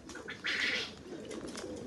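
Pigeons from Oman and Dubai, black-ringed birds newly unboxed, give a brief burst of cooing calls close by, with a few softer coos and faint chirps around it against low background noise.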